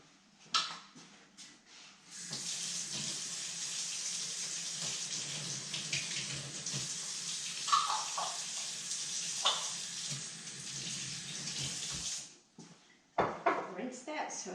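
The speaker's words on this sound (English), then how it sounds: "Rinse that so I don't make a huge mess." A kitchen tap runs in a steady, close splashing stream for about ten seconds while an utensil is rinsed during candy making, with clinks and handling sounds at the start and end and talking over it.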